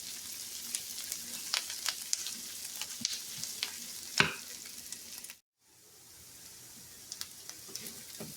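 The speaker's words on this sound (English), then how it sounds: "So we're about halfway through the process of getting the onions caramelized" Onions caramelize in a pan with a soft, continuous sizzle broken by sharp clicks and scrapes of stirring. A brief silent gap falls partway through, then the quiet frying resumes.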